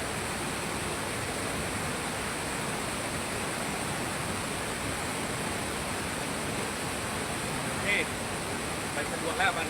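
Water rushing steadily and loudly out of a pipe in a rural village water supply being repaired, with a faint voice briefly under the flow near the end.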